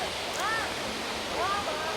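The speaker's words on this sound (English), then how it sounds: "I'm going to try and get almost beneath that waterfall so I can take some video of it from that angle." A jungle waterfall at Khlong Phlu on Ko Chang, Thailand, roars with a steady, dense wash of falling water heard from nearby, with a couple of faint voice-like tones rising briefly over it.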